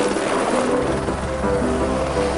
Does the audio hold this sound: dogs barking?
no